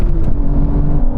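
A loud, close Aston Martin engine revs hard at a drag race, a deep sustained roar with a steady whirring drone.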